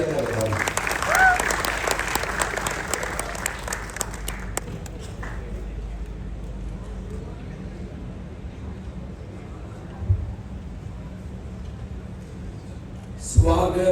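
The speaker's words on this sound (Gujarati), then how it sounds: "એકવાર જોરદાર તાળીઓથી વધાવીએ" An audience at a gathering of Gujarati content creators breaks into loud, dense applause for about four seconds. It fades to murmuring room noise under a speaking voice, with a short final burst of clapping.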